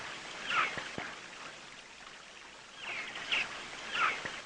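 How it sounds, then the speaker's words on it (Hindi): A waterfall gives off a soft, steady rushing hiss, with a few faint bird-like chirps rising above it. "ये झरने की आवाज़ सुनो तो मन को बहुत सुकून मिलता है"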